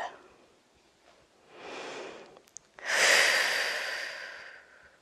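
Tai chi breathing: a soft inhale is followed by a louder, longer breathy exhale, close to the listener, with no talk over it.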